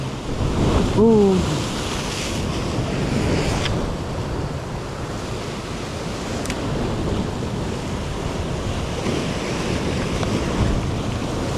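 Sea water spouts up among waves, a continuous rushing roar of surf mixed with gusty wind noise on the microphone, with no talking.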